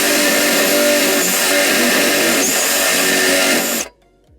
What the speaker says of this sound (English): So now, let's start drilling.